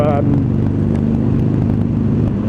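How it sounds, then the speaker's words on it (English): A Harley Sportster fitted with Bassani Firepower slip-on exhaust runs with a loud, steady, close-up engine drone, a constant rumbling tone that holds throughout. "the acoustics on my exhaust are pretty rampant, are fine and great and pleasant"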